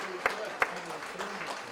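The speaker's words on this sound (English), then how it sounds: "And they're clapping him off." Spectators at a 2010 A Reserves Grand Final football match between North Beach and North Fremantle clap an injured player off the field, a light scattered applause running under commentators' talk with a couple of sharper claps.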